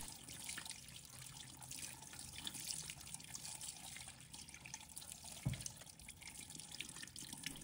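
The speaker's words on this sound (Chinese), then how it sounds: "去皮后用清水给它清洗一下" A peeled radish rinsed in clean water at a sink, a low steady splash and trickle of running water throughout with a brief soft knock partway through.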